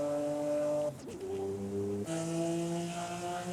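A Lamborghini SVJ engine in the video game Forza Horizon 5, suffering a first-gear problem, hums steadily, briefly dips and stutters, then resumes at a different pitch, fairly quiet and without talk.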